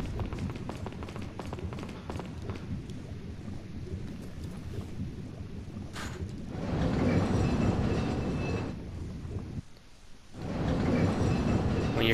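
A mini trolley train rumbles steadily through a castle in Resident Evil 4, its continuous rolling roar swelling louder near the end with a brief dip in between, and no voices over it.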